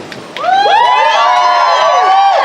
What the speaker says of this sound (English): we're really going to need to teach this crowd how to cheer